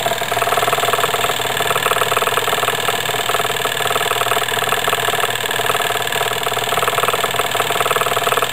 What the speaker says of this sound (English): Engine is slowing down just a little bit.